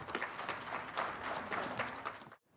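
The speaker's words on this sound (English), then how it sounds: "A huge round of applause and a heartfelt thank you to our dynamic keynote speaker" An audience at a summit keynote in Bengaluru claps in a dense, lively burst of many hands that carries steadily and then cuts off sharply into silence.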